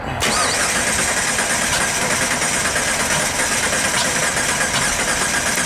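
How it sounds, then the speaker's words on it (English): A Jeep engine cranks steadily and continuously during a crank-no-start test, a loud, rhythmic starter churn without the engine catching, heard up close with no talk. "So alright, Steve, now let's do the crank."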